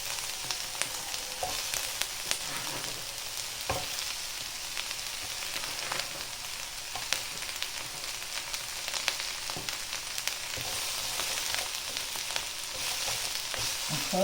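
Chicken fajitas with mushrooms added frying in a pan, giving a steady, moderately loud sizzle with occasional small pops and clinks throughout, no voices.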